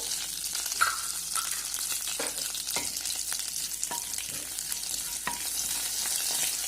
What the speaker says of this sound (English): Let it splutter. The jeera is spluttered.